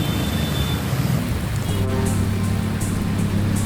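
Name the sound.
heavy rain falling in Jakarta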